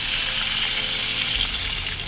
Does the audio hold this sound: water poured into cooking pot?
yes